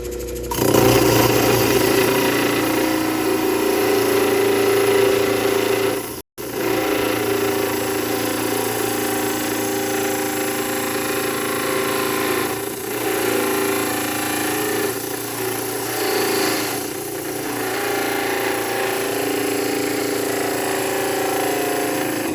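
A Genie trim saw attachment cuts continuously, a loud, dense, whining roar that holds steady for a long stretch with one momentary dropout and slight wavering in intensity.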